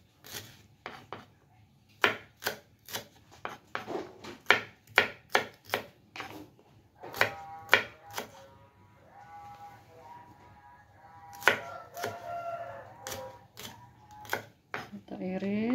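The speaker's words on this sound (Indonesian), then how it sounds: "Lanjut kita mau ngirisin bawang merahnya dulu." A kitchen knife slices shallots on a cutting board, sharp irregular chops close by, with a voice speaking between the cuts.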